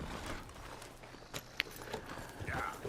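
A horse in Red Dead Redemption 2 walks with light, uneven hoof clops over a hushed background, a few sharper knocks standing out near the middle.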